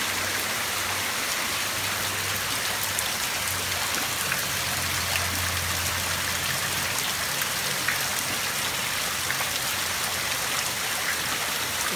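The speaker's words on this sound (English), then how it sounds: "It's been raining like this for the last 5 hours." Heavy rain pours steadily in the aftermath of Hurricane Patricia, a dense, even hiss of water coming down close by without a break, with no voices.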